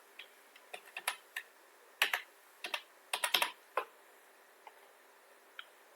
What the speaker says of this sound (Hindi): OTP डालेंगे